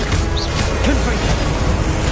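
Confringo explosive spell in Hogwarts Legacy combat, a close smashing crash amid chaotic game effects, with brief chirping tones and a rumbling low end over about two seconds.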